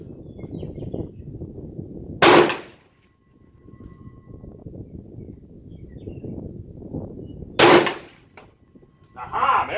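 Two loud, sharp cracks several seconds apart from rifle shots at a steel target during a Mauser versus Arisaka comparison, heard over a steady outdoor background with a faint ring after the first.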